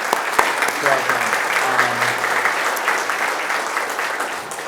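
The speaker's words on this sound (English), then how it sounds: "I really want to applaud" Audience applause at a city State of the City address, a dense burst of clapping from a crowd filling the clip, steady and fairly loud with a voice briefly underneath.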